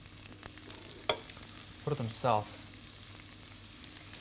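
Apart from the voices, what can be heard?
mushrooms (champignons) frying in olive oil in a pan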